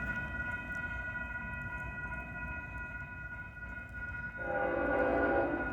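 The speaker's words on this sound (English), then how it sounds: "we have a southbound UP train coming" A southbound Union Pacific freight train approaches with a steady tonal drone and rumble, then a louder horn-like blast swells in near the end, heard from outside with no talking.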